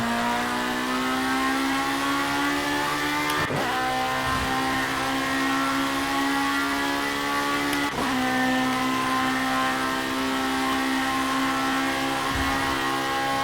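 A racing car engine in Project Cars drones loud and constant, its pitch holding steady with a few sharp gear-shift dips and brief revs and no talking.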